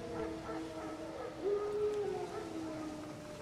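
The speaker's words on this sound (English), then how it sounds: "No. Wild dogs. Yes. More dangerous than wolves." Wild dogs howl in The Witcher 3, a faint drawn-out wavering howl rising mid-way over steady ambient game sound, with no talk.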